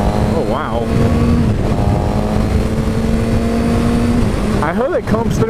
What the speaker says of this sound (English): this bike sounds really cool. Like way cooler than expected. It's got a cool little whine.